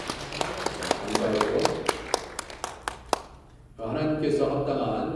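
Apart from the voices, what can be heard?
church congregation applauding to welcome a guest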